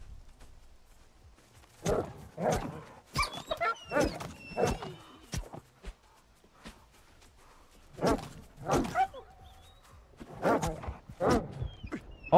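Dogs in Stalker 2 bark and snarl in sharp, close bursts, two clusters of aggressive barking broken by a brief lull, fairly loud against a quiet background.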